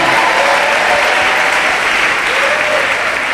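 A church congregation bursts into sustained, loud applause that fills the room evenly from start to finish.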